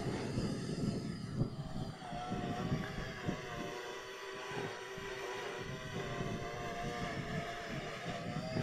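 Parrot Bebop 2 quadcopter drone, flown with a FrSky Taranis controller, gives a steady, loud motor and propeller whine with layered tonal harmonics that holds throughout, no talking.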